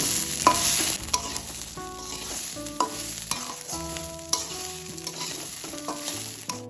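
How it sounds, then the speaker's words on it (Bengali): Vegetable rice with spices, fried potatoes and chopped coriander is stir-fried in a pan, with a steady sizzle under rhythmic scraping stirs and clinks of the spatula; no speech. "এবার আমি এর মধ্যে দিয়ে দেবো ভেজে রাখা আলুগুলো, আর দিয়ে দেবো ধনেপাতা কুচি। ভালোভাবে আবার সবকিছু মিশিয়ে নেব।"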